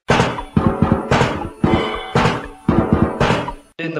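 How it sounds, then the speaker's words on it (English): Plastic buckets played as drums through several microphones and a distortion pedal, a run of heavy, crunchy thuds in a steady groove with short gaps, loud and close with no talking. "The next thing we do is add some drums, in this case, plastic buckets, bunch of microphones, and a distortion pedal."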